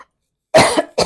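A person coughs in a short burst of two close harsh coughs, loud and near, after a moment of silence, with no talking.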